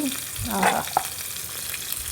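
Shallots and curry leaves sizzle and crackle steadily in hot oil as a tempering for dal, with a bit of stirring and a soft scrape, close by and continuous.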